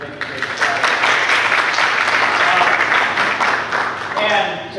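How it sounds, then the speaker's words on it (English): Audience applause for a rowing team at an event, sustained clapping of moderate loudness that swells and then tapers near the end, with a voice emerging at the close. "huge round of applause for the team"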